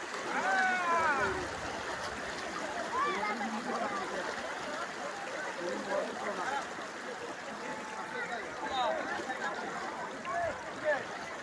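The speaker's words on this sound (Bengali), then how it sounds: "পানির স্রোত বেশি" Strong river current rushing steadily and fairly close, a continuous dense wash of moving water with faint voices mixed in.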